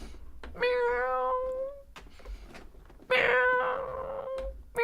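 A cat meows twice, two drawn-out, fairly loud meows separated by a short pause.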